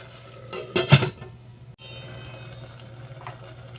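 A metal lid clatters onto a cooking pot of pinakbet with saluyot, a short burst of clanks near the start, followed by a low steady hum of the pot on the stove.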